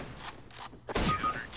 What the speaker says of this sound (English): here he's shooting again